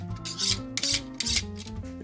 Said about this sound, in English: I sharpen my knife.